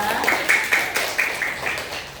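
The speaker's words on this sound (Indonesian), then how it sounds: "Boleh tepuk tangan untuk Sipa" Classmates in a junior high school classroom clap for a student, a short, uneven burst of a few separate hands with distinct claps and a light background of voices, fading toward the end.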